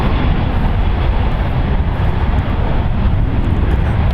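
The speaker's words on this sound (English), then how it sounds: "Let a turn and burn by Southwest Airlines Flight 4656 going to Burbank. It's Boeing 737-700" A 22-year-old Southwest Airlines Boeing 737-700 taking off from San Francisco International Airport roars loudly and steadily, a thick, unbroken jet engine sound with no pauses.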